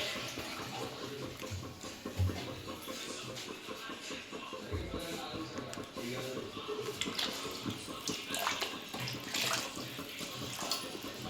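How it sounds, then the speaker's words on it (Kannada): Water is poured onto rice in a pot for chicken biryani, a soft continuous splashing and trickling close by with faint thuds and shuffling around it. "ಬಿರಿಯಾನಿ ಆಗೋಕ್ಕೆ ಎಷ್ಟು ಬೇಕೋ ಅಷ್ಟು ನೀರು ಹಾಕ್ಕೊಂಡಿದ್ದಾಳೆ"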